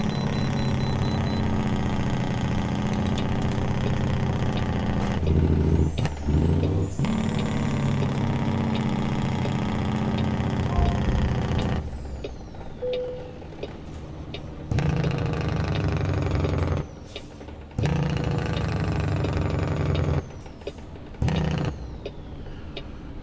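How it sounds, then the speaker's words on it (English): A Kenworth NeedleNose truck with a Spicer 4-4 twin-stick transmission rumbles loudly as the driver shifts and downshifts with the clutch, its engine note dropping out briefly at each shift before surging back. "And I'm just shifting with the clutch, downshifting."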